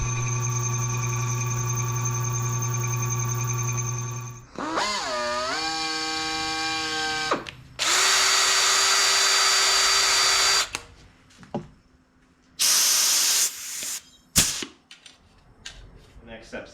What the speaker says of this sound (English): So I'm gonna drill these holes to size and drill the attach holes